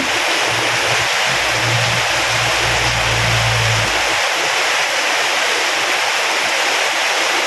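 Rainwater leaks and runs off a plastic sheet in a loud, continuous rushing splash, with a low engine-like hum underneath during the first few seconds.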